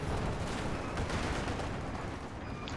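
Dense, continuous machine gun fire from the battle game Company of Heroes 2, with two guns firing at Panzer IV tanks. A loud, unbroken wall of rapid shots and explosions fills the whole stretch.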